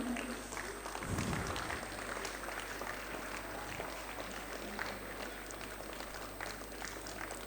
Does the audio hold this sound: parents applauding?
yes